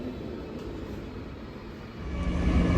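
Steady rumble of a passenger train heading back to London, a continuous low drone with broadband rattle that swells slightly louder toward the end, no voices.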